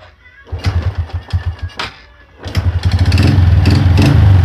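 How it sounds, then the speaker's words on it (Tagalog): A motorcycle engine cranks in neutral with a few sputtering pulses, catches, then settles into a loud, rapid, steady running rumble close by. "Papaandarin ko muna yung motor."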